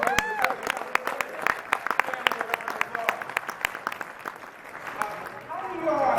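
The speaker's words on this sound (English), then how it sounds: "So I think that deserves a round of applause." An audience at a training talk breaks into applause, a scattered, lively run of claps that rises and thins over several seconds, with a voice speaking over it toward the end.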